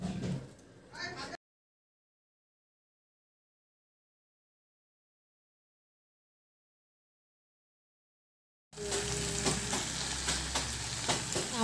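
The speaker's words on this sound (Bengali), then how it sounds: "তারপরে সেদ্ধ করে রাখা কাঁঠালটা আর আলুটা দিয়ে এখন কষাচ্ছি" Boiled jackfruit and potatoes sautéing in a pan, a steady sizzle with stirring heard briefly at the start and again after a long stretch of silence, with a voice talking over it.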